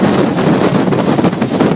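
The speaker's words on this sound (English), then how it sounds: "This has got to be 40 knot sustained wind with gusts at least 50 or 60." Strong hurricane wind gusts roar across an open seaplane base marina in the Bronx, a loud continuous rush of buffeting wind noise pummeling the microphone without letup.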